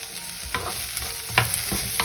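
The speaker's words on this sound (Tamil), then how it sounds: "இது வெங்காயம் லைட்டாக வதங்கும் வர்றதுக்கு நான் இப்போ கிளறி விட்டால் சரி நல்லா பொரிஞ்சு விரட்டும் வெங்காயம்" Onions sizzle steadily as they fry in a pan for noodles, with a few soft scrapes from stirring over the constant hiss.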